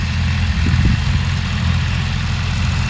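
A tractor with a Jaggi rotavator attached idles nearby: a steady, loud, low diesel rumble that holds even throughout, with a brief slight swell early on and no voices.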